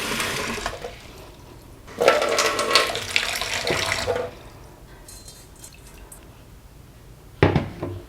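Water poured over purple rice in a bowl for soaking, in a kitchen: two bursts of splashing pour, a long one then a short one, with quieter trickles and drips between, close and clear without talk.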